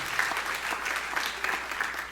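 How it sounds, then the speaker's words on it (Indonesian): Church congregation applauding for God with a brief burst of dense, lively clapping that fills the room. "Tepuk tangannya paling meriah buat Allah kita."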